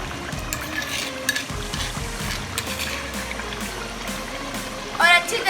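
Chicken, some on the bone and some boneless, frying in a pot for haleem while it is stirred: a steady close sizzle with scraping and stirring textures throughout and a brief louder splashy burst near the end.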